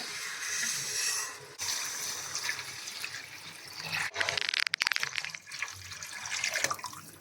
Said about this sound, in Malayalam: ഇനി നമുക്ക് വെള്ളം ഒഴിച്ചു കൊടുക്കാം അപ്പം ഞാൻ നാലര കപ്പ് വെള്ളമാണ് ഇതിലേക്ക് ഊറ്റുന്നത്